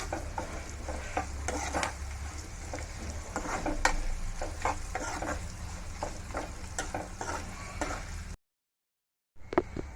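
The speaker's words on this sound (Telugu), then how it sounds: "చూసారు కదండి తాలింపు బాగా వేగిపోయింది" Tempering spices frying for pulihora sizzle steadily in a pan while a utensil stirs with clinks and scrapes. The sizzle is loud and close and continuous, then cuts to a brief silence before returning.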